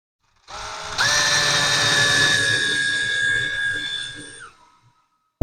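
A power drill drives a 1/4 by 4 inch Tapcon concrete screw to mount a wood rack bracket, with one steady, loud whine that holds for about three and a half seconds before winding down and cutting off.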